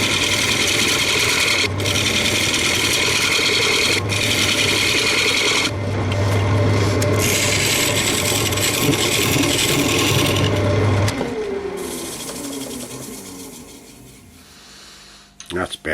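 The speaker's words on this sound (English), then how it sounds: "I just went in with the skew chisel again just to give me a bit more depth back in the mortise." A skew chisel scrapes and cuts into a wenge wood platter spinning on a lathe, giving a steady rasping drone that fades out toward the end, with intermittent talk.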